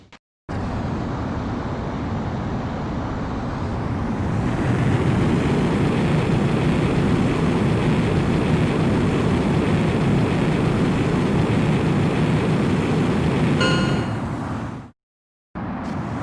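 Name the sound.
fighter jet taking off in video game Ace Combat X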